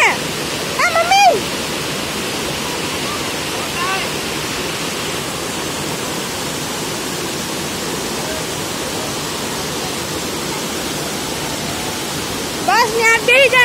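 Loud, constant roar of a monsoon waterfall at Jatashankar near Junagadh, steady broadband rush throughout with people talking briefly at the start and end.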